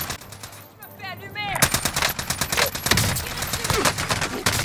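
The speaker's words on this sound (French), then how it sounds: "Subis des tirs." Rapid automatic gunfire bursts crackle loudly in a Call of Duty Modern Warfare match on Rebirth Island, dense overlapping shots filling most of the moment after a brief quieter start.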